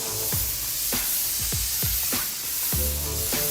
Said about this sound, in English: when you pull the trigger, Yep. you pull the first phase air, and you pull it back more, then there's the spray, there's the paint that comes out